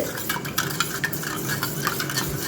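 Butter and sugar beaten in a bowl with a manual hand beater, a steady close scraping and whisking stir with light clinks of metal against the bowl.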